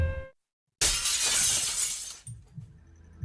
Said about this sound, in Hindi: अचानक कांच के टूटने की आवाज से सन्नाटा टूट गया।